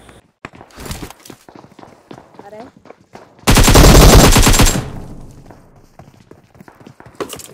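A long burst of M762 automatic rifle fire in PUBG Mobile, loud and sustained for about a second, amid scattered footsteps and clatter before and after.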